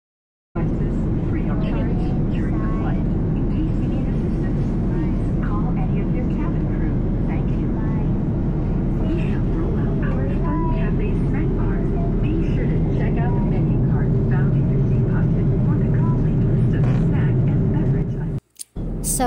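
A constant low engine hum and hiss fill an airplane cabin waiting for takeoff to Hong Kong, loud and steady, while people talk over it.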